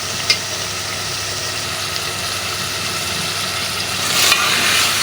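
Minced meat cooks with capsicum and fresh coriander in a pan, giving a steady low sizzle and soft frying hiss that swells slightly near the end, with no talking over it.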